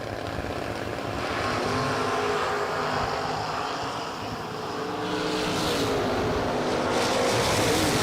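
At a drag racing event, a Mustang and another car launch and roar down the strip, a broad steady engine roar that swells and then stays loud as they race away, with no talk.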